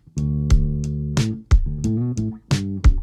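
A bass line from the Bass Dude plugin, brightened with EQ for air and attack and warmed with tape saturation, plays several punchy notes that shift in pitch, each with a crisp attack, dry and alone.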